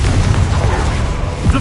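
The Confringo explosive spell in Hogwarts Legacy sounds as a loud, low rumbling blast with a sustained booming rumble under it, and a further thump near the end.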